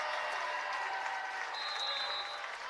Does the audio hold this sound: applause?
yes